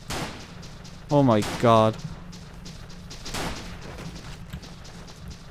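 Gunfire in the video game The Legend of Alfur, with scattered thumping shots heard under a player's voice, while a short exclamation rises above the action.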